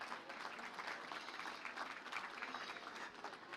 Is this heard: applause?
yes